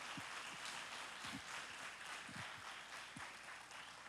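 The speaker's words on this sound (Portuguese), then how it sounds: "Você pode aplaudir ao Senhor Jesus?" A church conference crowd claps continuously, a dense even patter of applause at moderate distance, with a few low thumps mixed in.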